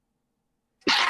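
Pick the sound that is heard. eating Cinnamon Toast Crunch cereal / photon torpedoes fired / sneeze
sneeze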